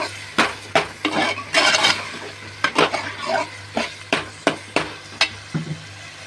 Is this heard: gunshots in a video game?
no